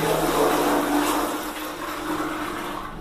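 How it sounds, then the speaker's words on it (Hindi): About 8 litres of water poured from a container into a newly installed one-piece toilet bowl, a steady continuous splashing rush that stays loud and close for the whole stretch, with no talking. "चलिए यहाँ पे पानी डालता हूँ मैं"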